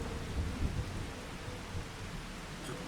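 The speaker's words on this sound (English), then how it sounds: "Here comes the rain." Rain and thunder in the Farming Simulator video game: steady hissing downpour with low rumbling thunder rolling underneath, fairly quiet and without talk.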